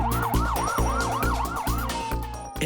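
A loud wailing ambulance siren sweeps up and down in quick repeated cycles, then holds a steady tone, with the vehicle's engine rumbling underneath.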